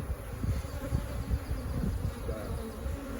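A dense, close buzzing of honey bees swarming around a beekeeper's face at the hive, loud and continuous with pulsing swells as individual bees zip past.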